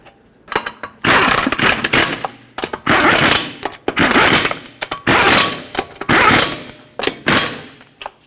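An impact wrench on the lug nuts of a 2006-2010 Hyundai Sonata's wheel, giving loud, close bursts of rattling whir, each lasting about a second, separated by short pauses.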